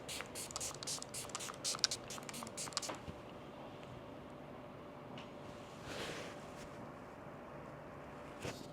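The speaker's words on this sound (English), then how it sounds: "I just spray this all over my face" Quick bursts of a fine mist spray hiss close by in rapid succession, then stop, leaving a faint background with one more soft puff.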